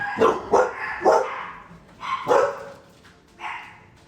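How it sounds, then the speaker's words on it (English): Dogs bark nearby in a short volley: three quick barks, a pause, then two more and a final softer bark, with no talking. "dogs are probably going to freak out any second"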